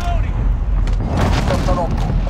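Airstrike explosions in Call of Duty Modern Warfare team deathmatch: a dense, loud rumble of blasts and gunfire with rolling booms, while in-game voices call out over the din.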